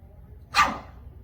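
A single close dog bark indoors, one short sharp burst standing alone against quiet room tone.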